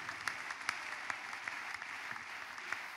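Congregation clapping in a church during a testimony service, a steady wash of applause with scattered sharper individual claps, moderately distant and even throughout.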